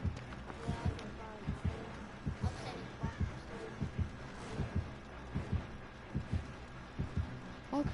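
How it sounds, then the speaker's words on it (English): Slow, steady heartbeat thumps in a horror video game, a regular low double pulse repeating close and clear under a faint background hum. "but I hear a heartbeat"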